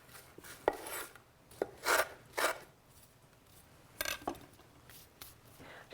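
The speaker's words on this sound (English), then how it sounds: "So just roughly chop." Crackers roughly chopped with a knife on a board for a fish chowder, several crisp crunching cuts in irregular bursts with quiet gaps, close and clear with no talk.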